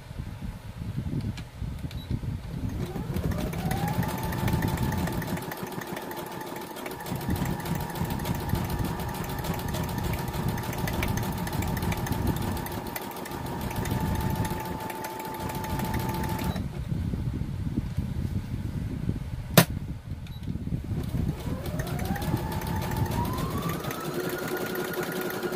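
A sewing machine stitching lace onto an envelope pocket, its motor humming in steady runs that rise in speed, pause briefly, then start up again, close and alone.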